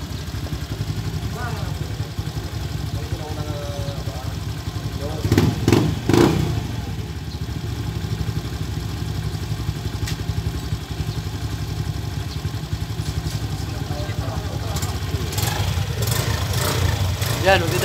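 A Honda Nova Z motorcycle engine runs continuously up close after an oil change, a loud steady rattling idle with a brief rev partway through and occasional clatter.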